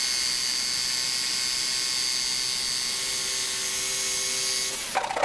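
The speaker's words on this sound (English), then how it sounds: "Nothing obstructing it, so I could use my jigsaw and cut out the circle." A jigsaw cutting a circle out of a YETI 24oz travel mug, a continuous loud whining buzz that holds steady for nearly five seconds, then stops with a few clatters.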